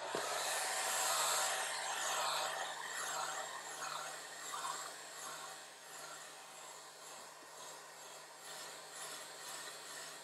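A hair dryer blows steadily over a watercolor painting of a footbridge over a stream, a loud, continuous close-up whoosh with a constant hum that wavers slightly as the airflow moves across the paper.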